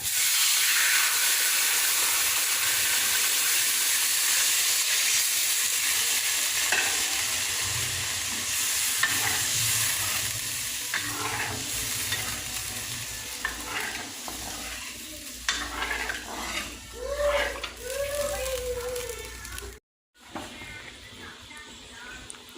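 Catfish curry ingredients sizzle loudly in a hot pan while being stirred, a continuous frying hiss with scraping utensil strokes, easing off toward the end.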